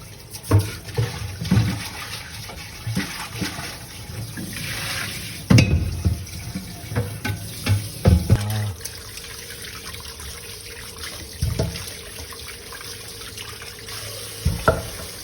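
Tap water runs steadily into a kitchen sink while food is washed by hand, with close splashing, clattering and intermittent bumps over a continuous flow.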